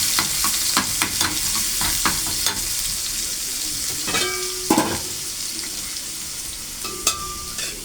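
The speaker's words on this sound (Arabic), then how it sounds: "كده بنحط الزيت اهوت بتاع طشه التومه. نحط التومه كده زي ما انت عارفه، نقلبها كده كويس." Garlic sizzling as it fries in hot oil for Egyptian okra, with a spoon stirring and scraping the pan in short bursts, close and steady throughout.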